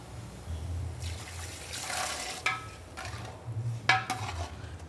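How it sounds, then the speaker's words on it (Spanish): Cooked beans are tipped into a beer mixture in a cooking pot, a close wet pour and slosh with a few sharp clinks of utensil against the pot, over a low background hum. "Aquí en esta mezcla vamos a tirar directamente el frijol cocinado."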